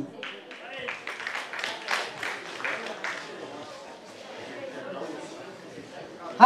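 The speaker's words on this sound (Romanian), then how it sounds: "Merită aplauze, sigur că da." Scattered applause and crowd chatter at an outdoor Romanian folk festival, fairly faint and uneven, mixed with voices, fading after a few seconds.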